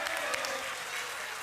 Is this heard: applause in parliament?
yes